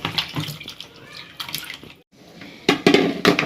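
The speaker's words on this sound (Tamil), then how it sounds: "சிக்கனை கழுவிடுவோம்." Water splashes and gurgles in a sink in uneven bursts while raw chicken is washed, with dripping and handling sounds and a brief pause midway.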